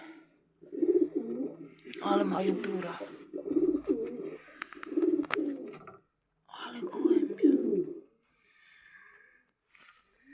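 Pigeons coo in low, repeated throaty phrases close by, several rounds in a row with short pauses between them.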